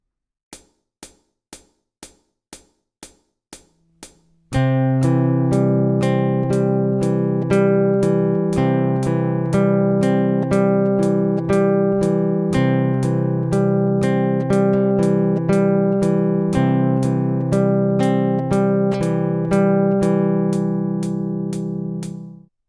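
A metronome ticks alone for a few beats, then guitar notes are fingerpicked in a steady repeating pattern over the clicks, ringing out at the end.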